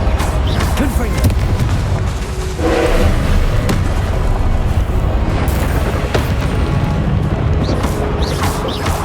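Confringo blasting spell going off in Hogwarts Legacy, a dense, loud booming explosion burst over continuous rumbling game combat noise, with several sharper cracks layered through the full span.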